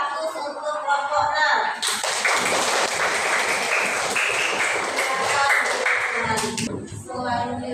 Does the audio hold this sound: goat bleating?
no